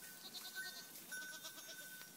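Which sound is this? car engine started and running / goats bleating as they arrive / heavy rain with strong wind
goats bleating as they arrive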